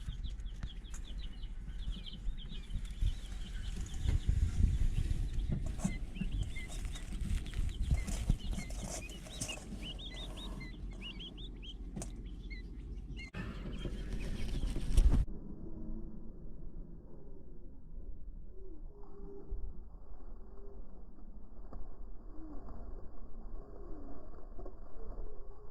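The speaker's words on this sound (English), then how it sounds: "These are Tuxedo Quail," Tuxedo quail chicks raised at home chirp and peep close by, with rustling and brief wing flutters through the first half. The sounds then fade to softer, sparser calls.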